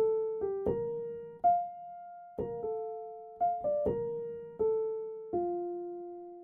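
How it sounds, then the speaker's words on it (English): A soft, mellow piano plays a slow repeating pattern of single notes and small chords, each decaying gently, alone without any voices. "So to make this lead, I started with the soft piano preset in Labs,"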